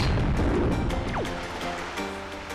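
A bomb bursting against rocks in Zelda: The Wind Waker, with a rumbling blast at the start that fades out under surf and a short game chime.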